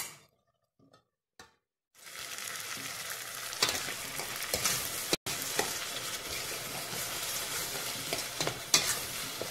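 Onions and tomatoes fry and sizzle in a pan as they are stirred, a steady close crackle with scraping strokes, after a near-silent opening of about two seconds with a couple of faint clicks.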